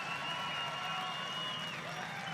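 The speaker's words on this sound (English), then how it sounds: "give these guys a big round of applause" Steady roar of grandstand crowd applause and cheering at a drift event, with whining engine tones running underneath throughout.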